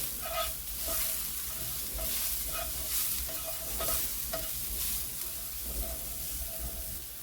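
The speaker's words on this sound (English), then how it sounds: "I'm gonna add all the spices that I have and mix it well" Spices for a potato samosa filling sizzle in oil in a pan, with continuous frying hiss and repeated scraping strokes of a spoon stirring the mix, close and steady.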